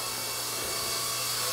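A Blade 120 SR radio-controlled helicopter hovers nearby with a steady, high-pitched whine of its rotor and motor, constant and unbroken throughout.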